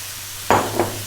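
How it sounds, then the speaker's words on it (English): Cooked brown or green lentils dropped into a hot pan over medium heat in a spiced Middle Eastern dish, giving a sudden sizzling splash followed by a second smaller sizzle, close and loud over a low background hum. "Next up, we're going to drop in our cooked lentils"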